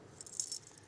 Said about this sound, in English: These are the keys to the motorhome.